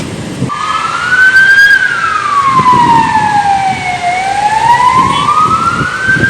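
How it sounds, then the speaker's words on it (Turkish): An ambulance siren wails loudly and nearby during heavy rain and a storm at a motorcycle accident scene, its pitch sweeping slowly up and down over the hum of traffic. "Evet şu anda ambulans geldi."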